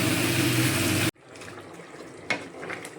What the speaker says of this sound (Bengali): এবারে দেখো এই জলটা দিয়ে দিচ্ছি